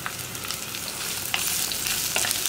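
Sliced onions and green chillies sauté in hot oil, a continuous crackling sizzle with faint stirring, close and steady throughout with no voices.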